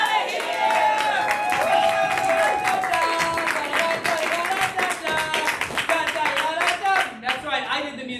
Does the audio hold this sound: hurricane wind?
no